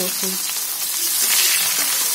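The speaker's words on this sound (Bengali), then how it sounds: "পেঁয়াজ কুচিটা ভালো করে লাল লাল করে ভেজে নিতে হবে" Chopped onions fry in oil with a steady, close hiss of sizzling throughout, broken by faint clinks of stirring.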